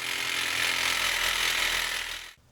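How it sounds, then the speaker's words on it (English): Reciprocating saw cutting truck exhaust pipe: a loud, steady, close buzzing rasp of metal being cut, running for about two seconds before stopping abruptly, no talking. "maybe I'll throw in a little shot of me sawzawing something"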